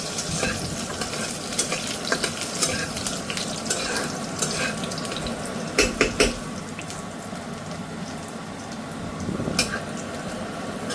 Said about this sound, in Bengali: এই রসুন আর কাঁচা লঙ্কা কুচিটা ফোড়ন দিয়ে দেব